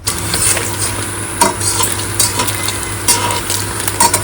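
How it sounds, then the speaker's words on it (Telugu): Paneer frying in ghee in a home kitchen pan, a steady sizzle broken by repeated stirring scrapes and clinks of a utensil against the metal. "నెయ్యిలో పన్నీర్ వేగుతుంటే మంచి స్మెల్ వస్తుంది"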